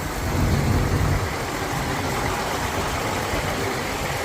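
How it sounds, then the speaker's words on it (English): A Ford cab tractor's engine runs steadily at a farm equipment auction, with a low continuous rumble that swells slightly in the first second and then holds at an even level, no voices over it. "Ford cab tractor."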